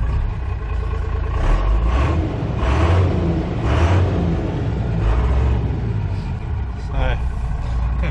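A 6.4 litre turbo diesel engine in an armoured vehicle with air brakes and air clutch rumbles steadily and loudly throughout, with voices talking over it.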